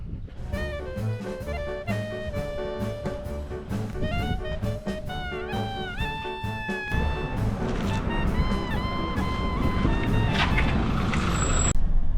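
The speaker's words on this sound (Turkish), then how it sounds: "Minibüse binip gideceğiz." Engine rumble of a minibus in Edremit, Turkey, with a steady drone, tonal whines and clattering, gradually growing louder.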